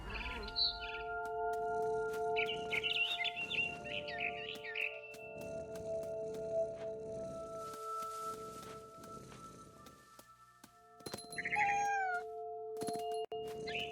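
Cat meows in the game What Remains of Edith Finch, several short meow calls scattered over a steady tonal music bed, with rustling and a louder bird-like chirping burst near the end.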